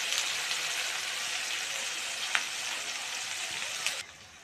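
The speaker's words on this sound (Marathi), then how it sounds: "हे चांगले परतून घेऊया।" Shev bhaji masala paste sizzles steadily while being sautéed in a pan over low gas, a dense continuous frying hiss with a couple of faint clicks and stirring scrapes, no voices.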